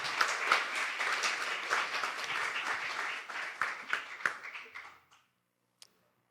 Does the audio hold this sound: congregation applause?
yes